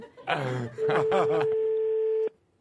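Telephone call tones from a radio comedy show: after a short burst of voice, a steady electronic tone holds for about a second and a half with some overlapping voice, then cuts off abruptly.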